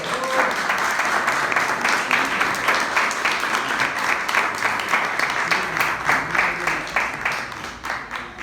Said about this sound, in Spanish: de José Luis Chilos Guzmán, para quien le pido un fuerte aplauso